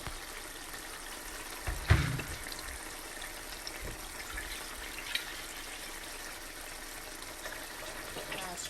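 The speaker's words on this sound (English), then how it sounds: "I strain my water from my meat, my stew water." Water from a pot of chicken, beef and shrimp stew is strained off the meat, pouring and gushing faintly with a brief louder splash early on and small knocks after.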